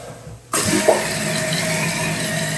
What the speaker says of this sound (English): And now I'm going to turn the water back on.